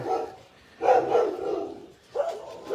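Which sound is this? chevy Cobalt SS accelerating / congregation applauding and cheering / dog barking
dog barking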